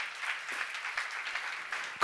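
A church seminar congregation claps briefly, a soft, even patter of hands that lasts a couple of seconds before a louder burst at the very end.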